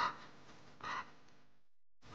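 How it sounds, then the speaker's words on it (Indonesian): Harsh, raspy crow caws sound in short bursts, three calls spaced apart with quiet gaps between them. "Itu suara burung gagak ya?"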